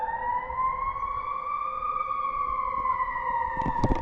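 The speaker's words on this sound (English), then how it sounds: "I don't love hearing sirens up here" A single emergency vehicle siren wails steadily in the distance in Los Angeles, a faint, slowly rising and falling tone, with a few soft knocks nearby near the end.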